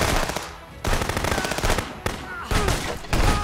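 Automatic gunfire crackles in the video game Contraband Police, sustained close-range bursts with brief pauses between volleys, loud and dense throughout.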